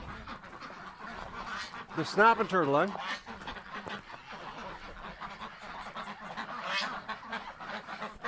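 Ducks on a pond give a short burst of honking quacks near the middle, loud and close, with someone talking over the scene before and after.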